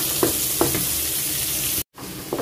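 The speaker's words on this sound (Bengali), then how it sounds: "তবে মশলাটা ভালো মতো কষিয়ে নিতে হবে" Spice paste of ground mustard being stirred and fried in a pan with prawns, a dense close sizzle with a few scraping stir strokes, briefly cut off near the end.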